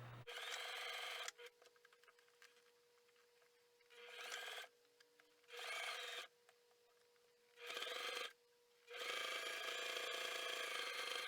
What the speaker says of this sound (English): Now we're going to run a stitch from this side all the way down, straight stitch with the 1/2" seam allowance